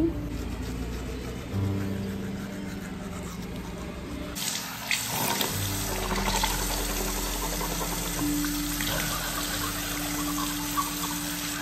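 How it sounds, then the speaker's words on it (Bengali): Tap water running at a sink during face washing, starting as a low steady hiss and then swelling into a louder, fuller rush of splashing flow, close by, with no talking. "তো চলুন মুখ টুক ধুই"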